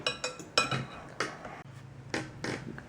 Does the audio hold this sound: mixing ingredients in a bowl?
yes